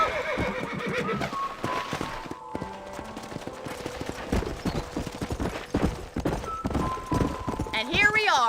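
A horse in the video game Red Dead Redemption gallops with steady hoofbeats and gives a loud neigh near the end, with game music and distant gunfire-like bursts in the background.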